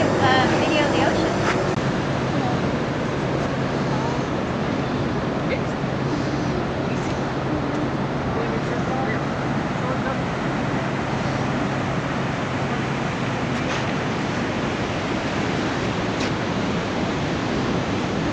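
Ocean surf at Oceanside beach washes in as a steady broadband roar, continuous and fairly loud, with a low hum running underneath.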